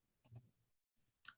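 Calculator buttons pressed in a few quick, faint clicks: a cluster of taps near the start, a short pause, then two or three more presses, with no voices.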